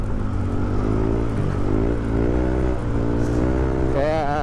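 A motorcycle fitted with a racing ECU and throttle body hums steadily on a city ride in Manila, engine pitch rising and falling before a sharp rev climbs at the end.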